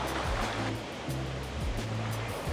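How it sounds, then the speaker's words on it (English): Water jets in a hotel lobby water feature at the Burj Al Arab stream smoothly with a constant rushing, splashing hiss, close and steady. "I like how smooth the water comes out of the jets."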